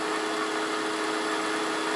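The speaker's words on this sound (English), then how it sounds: "I'm going to go ahead and take a couple of parting cuts to kind of mark where we're going to be cutting to." A parting tool cuts into spinning wood on a lathe for an acorn box, giving a steady, loud hiss with a faint whine under it and no breaks.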